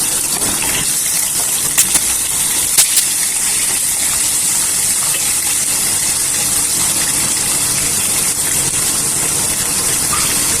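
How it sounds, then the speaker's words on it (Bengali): Tangra fish dropped into hot oil in a home kitchen pan, giving a steady, loud hiss and sizzle that runs unbroken throughout, with a couple of brief sharp pops near the start. "দিয়ে দিচ্ছি আমি মাছগুলো। তেলটা গরম হয়ে গেছে"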